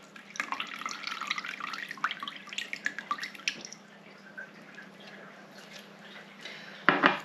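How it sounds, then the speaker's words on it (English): Cold water poured from a tap into a kitchen jug to top it up, a steady splashing trickle that fades out, followed by a brief clunk. "And then top that up to another pint with some cold water."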